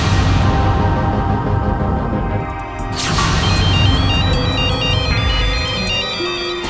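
A mobile phone ringtone plays loudly and steadily, a repeating electronic melody over a constant background with no talking.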